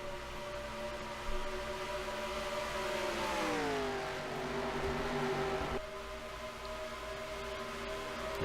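IROC race cars on the Indianapolis oval, engines roaring steadily with a pitch that sweeps downward as a car passes close by, then settles into a continuous drone of cars racing in the draft.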